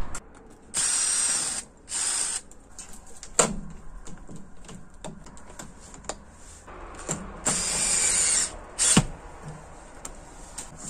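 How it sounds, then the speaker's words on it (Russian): Self-tapping screws are driven into a gutter funnel on a roof drainage system, heard as several short, close whirring bursts from a power driver with brief pauses and clicks in between. "Саму воронку тоже сажаю на саморезы."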